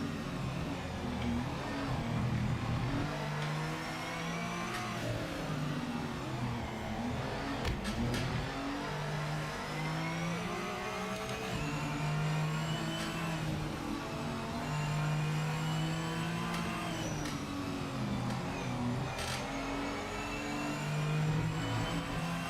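Gillet Vertigo race car in the video game Project Motor Racing, engine droning loud and steady throughout with rising and falling revs, shifts and other cars nearby, no talking.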